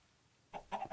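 A chicken in the video game Sky Factory 3 gives a few quick, close clucks after a moment of near silence.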